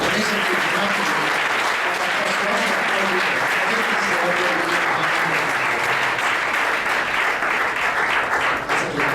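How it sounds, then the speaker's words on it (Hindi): A church congregation claps hard and continuously for several seconds, a dense, even wash of applause filling the room, with some voices mixed in. "हम जोरदार ताली देते हैं"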